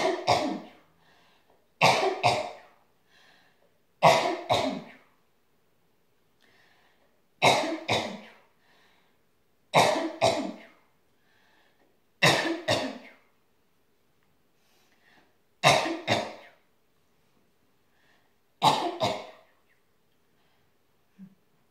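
A person coughs in eight separate bursts, each a short cluster of harsh coughs, spaced a couple of seconds apart with quiet pauses between, close and fairly loud.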